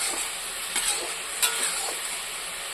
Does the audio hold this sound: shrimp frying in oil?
yes